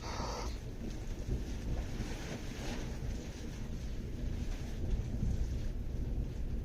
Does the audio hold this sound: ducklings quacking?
no